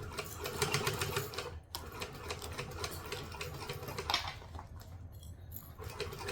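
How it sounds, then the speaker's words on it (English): Sewing machine stitching forward and then back-stitching on a fabric project, a steady close mechanical whirring with a brief pause partway through and shifts in pace as the direction changes. "We're going to stitch and back stitch."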